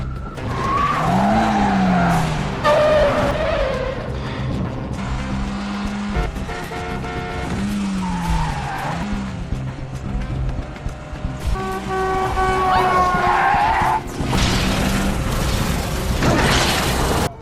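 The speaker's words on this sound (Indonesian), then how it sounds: "Layla yang melihat mobil James berusaha untuk kabur. Terjadilah aksi kejar-kejaran di antara mereka." Cars in a film car chase skid and screech with loud squealing tires over roaring engines and horn toots, a continuous dense action mix throughout.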